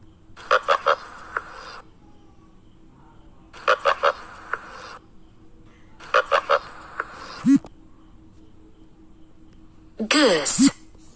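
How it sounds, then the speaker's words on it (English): Goose honking in short loud bursts, several rapid calls in repeated groups separated by pauses, alongside a few brief higher squawks, in an animal sounds for children sequence. "Goose."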